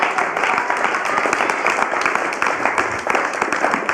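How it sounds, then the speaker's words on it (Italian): Studio audience at an Italian TV quiz show gives a burst of dense, steady applause, many hands clapping together loudly and continuously with no voices over it. "Applauso, grazie."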